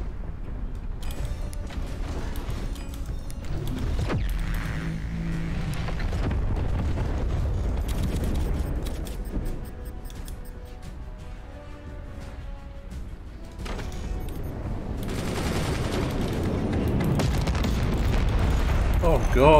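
Volcanic debris pounds hilltop forts in the Forts video game, a dense, loud rumble of booms, crashes and creaking structural hits lasting throughout, with a voice talking over parts of it.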